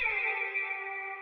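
A short held guitar note with a wah-filtered, slightly distorted tone and echo, ringing steadily on its own without fading.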